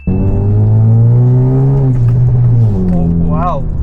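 A custom-tuned Honda Civic FB R18 with an automatic transmission pulls hard, its engine note climbing steadily from inside the cabin and then easing, while an excited voice talks over it.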